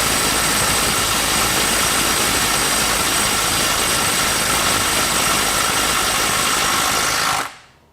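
A DeWalt DCF901 XTREME 12V brushless 1/2-inch impact wrench hammers continuously at full output for about seven seconds, loud and close, then cuts off abruptly.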